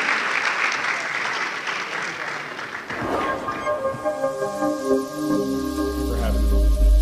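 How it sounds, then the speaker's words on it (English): Conference audience applause at an eLearning international conference fills the first few seconds with dense clapping, then thins out as a low hum and tonal music or background sound take over. "so we can give you a round of applause for that wonderful presentation"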